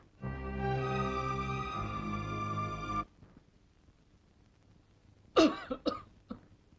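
A long droning tone holds for a few seconds, then falls quiet before a few sharp coughs break out close up, one after another.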